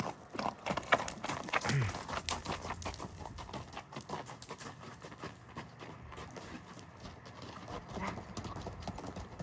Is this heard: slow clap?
no